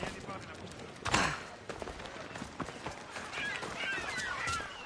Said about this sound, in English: It's a very nice horse. A sturdy horse.